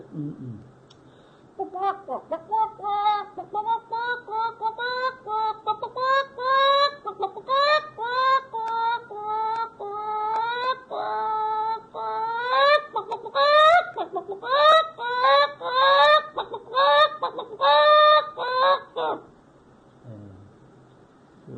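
A hen about to lay an egg clucks repeatedly in a long, rising run of throaty calls, loud and close, ending in a few drawn-out squawks before quieting.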